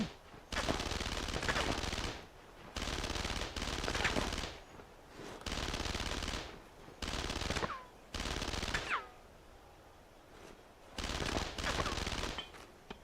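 Machine gun fire in the World War II video game Brothers in Arms: Road to Hill 30 on PS2, loud sustained bursts of rapid automatic shots separated by short pauses.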